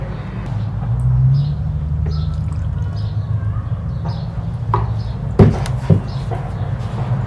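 Water pours steadily into a jar packed with rose petals, a continuous hiss and trickle lasting several seconds, broken near the end by a couple of brief clinks.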